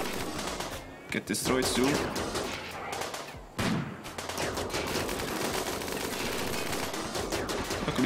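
Salvo of gunfire from colonists' weapons in the video game RimWorld, a dense rattling barrage of shots that runs nearly throughout with a brief break, under someone talking.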